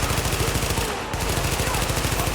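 Rapid automatic gunfire in The Division video game, dense repeated bursts running almost without pause, with a brief lull midway and faint talk mixed in.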